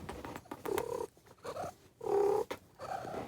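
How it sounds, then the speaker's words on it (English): A house cat purring up close, soft rhythmic rumbling pulses in several breaths with short quiet gaps between, faint and intimate with no talk. "He has the cutest little purr."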